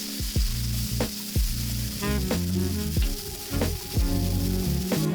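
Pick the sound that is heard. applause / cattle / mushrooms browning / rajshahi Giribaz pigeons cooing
mushrooms browning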